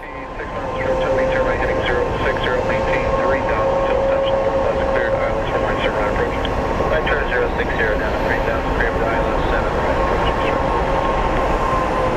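An American Airlines jet at Phoenix Sky Harbor airport gives a steady, loud engine roar that holds for the whole stretch, with murmuring voices running underneath.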